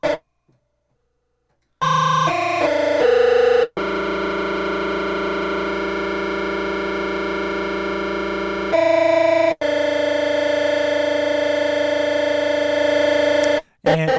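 Airy electro synth bass patch with heavy distortion and effects, playing sustained held notes with short stabs between them; loud and upfront with no voice.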